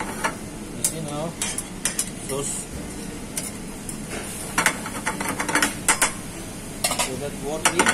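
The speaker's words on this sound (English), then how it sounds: "Now we make it brown with the butter." Butter browning in a hot pan over high heat for seafood pasta, with a continuous sizzle, utensil scrapes and clinks against the pan, and a person talking throughout.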